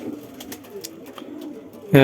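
A pair of domestic pigeons, one black and one white, coo softly and close by in short low murmurs, ending with a sudden louder voiced burst.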